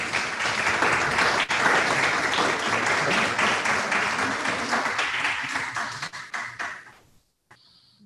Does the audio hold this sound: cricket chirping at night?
no